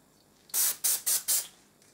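Four quick hissing bursts from a perfume spray bottle, fired in rapid succession, close and crisp against a quiet room.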